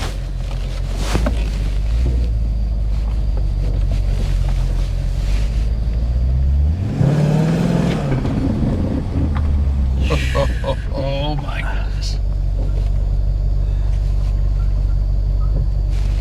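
A straight-piped Maserati Quattroporte S engine rumbles with a deep, steady exhaust drone that swells in a rev midway through, while people talk and exclaim over it.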